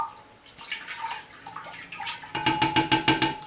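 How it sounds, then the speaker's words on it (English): Tepache, a fermented pineapple drink with ground cinnamon, is stirred in its container, giving soft liquid swishes that turn into a steady run of louder, rhythmic sloshing strokes near the end, close by with no talking. "Give that a little stir."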